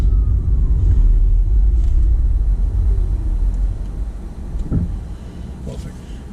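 Steady low road rumble and tyre noise from a car driving straight along a suburban test route in Coolaroo, loud and continuous, easing slightly toward the end.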